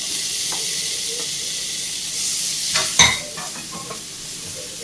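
Chopped tomato stirred into a frying masala in a pan, a constant loud sizzle under scattered stirring scrapes, with a sharp clatter around the middle.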